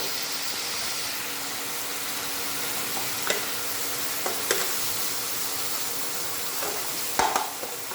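Turmeric and Kashmiri chili powder sizzle in a frying pan, a steady moderate hiss broken by a few sharp utensil clicks and taps, with no speech.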